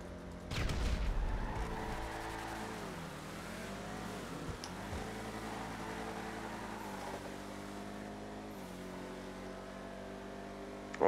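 A Chevrolet Camaro engine revs and climbs through the gears, pitch rising and dropping at each shift, loud and close for the whole stretch.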